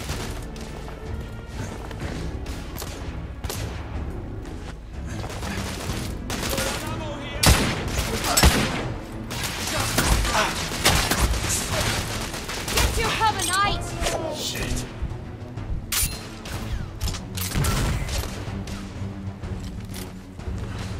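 Sustained gunfire in the video game The Order 1886, dense rapid shots and bursts with crashing impacts running throughout, loud and continuous, mixed with game voices.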